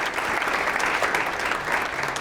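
An audience bursts into warm, dense applause to welcome Lieutenant Governor Deidre Henderson at a university entrepreneurship speaker event, the steady clapping filling the room throughout.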